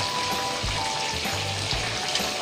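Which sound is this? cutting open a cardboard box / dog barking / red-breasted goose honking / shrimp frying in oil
shrimp frying in oil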